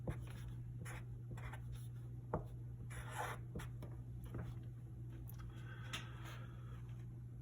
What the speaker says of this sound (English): Let's write this over here.